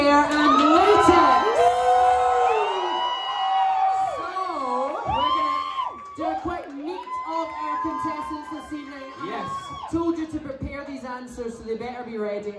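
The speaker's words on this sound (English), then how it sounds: "I want to give a massive cheer for your Suck Off contestants this evening." A live crowd at a drag contest cheers and whoops loudly for the contestants, with bright yells and shouts rising and falling throughout.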